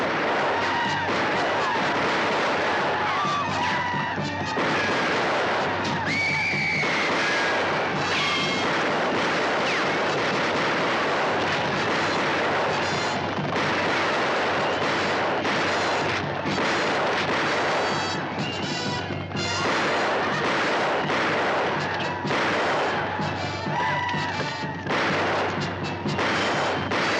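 Heavy gunfire exchange from a 1962 film battle scene, a dense, loud, continuous roar of shots and booming blasts layered with shouting voices.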